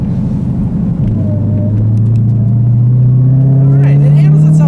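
A 2015 Dodge Challenger Hellcat with 707 horsepower carries a loud, steady engine drone through curves, its pitch climbing slowly as it accelerates, with a rumble underneath and a faint tire or wind whine.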